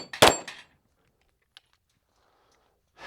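A Springfield Echelon pistol fires at a shooting range: one sharp, loud report near the start, then a quiet gap with a faint click, and another shot cut off at the very end.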